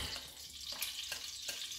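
Red palm oil sizzles in a pot for Nigerian groundnut soup, a quiet close hiss with a few soft clinks of a utensil against the pot.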